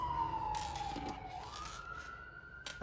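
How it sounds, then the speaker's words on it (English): Emergency vehicle sirens pass outside, a steady wailing tone that sweeps down and then back up, fairly faint and distant throughout, with no talking over it. "excuse the sirens."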